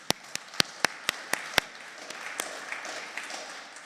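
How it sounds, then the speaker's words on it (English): Applause at a scientific conference of Hungarian-American academics opens with about seven crisp, evenly spaced claps close by, then thins into faint scattered clapping. "let's give them a round of applause"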